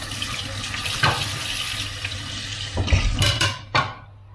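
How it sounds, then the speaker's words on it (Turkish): Hands washed under a running kitchen tap after cleaning yellow horse mackerel: a steady close hiss of flowing water with a few louder splashes and clatters near the end, and no talk. "Şöyle elimi yıkıyorum."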